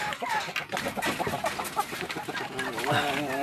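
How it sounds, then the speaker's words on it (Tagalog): White Leghorn and Sasso layer chickens cluck close by in a noisy coop during egg collection, their overlapping calls dense and continuous with a rising burst of clucking near the end. "Mga white leghorn, mga sasu chicken."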